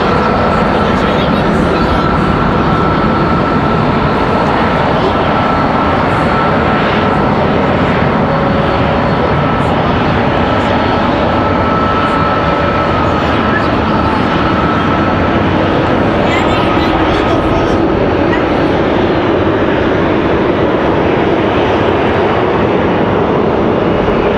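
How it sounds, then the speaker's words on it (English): Airliners taxiing at Raleigh-Durham International Airport, heard from an observation deck as a loud, continuous jet engine roar and whine that stays steady throughout, with talk over it. "you do get a pretty good close-up of all the planes taxiing out"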